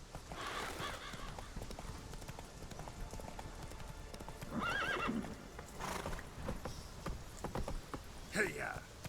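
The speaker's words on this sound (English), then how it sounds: "Run, Roach." A horse gallops with rapid clip-clop hooves and whinnies loudly a couple of times in The Witcher 3, the hoofbeats continuing throughout the clip at moderate loudness, with a rider's voice briefly over them.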